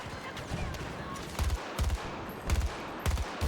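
A minigun in the Battlefield 2042 video game fires in several heavy, rapid bursts with short gaps between them, loud and close.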